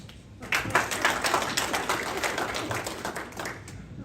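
Lodge brethren applaud after a Golden Trowel presentation, a burst of steady clapping from a small indoor gathering that rises quickly and holds fairly loud before fading near the end.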